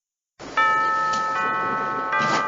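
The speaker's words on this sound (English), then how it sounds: "this is that rich person's doorbell" A doorbell in a rich person's house chimes with bright, ringing tones, struck about three times in quick succession after a brief silence.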